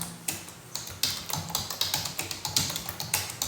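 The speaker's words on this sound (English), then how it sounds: "So we need to type the text now." Someone types text on a computer keyboard, with quick, close and fairly quiet key clicks in an uneven but steady rhythm and no talking.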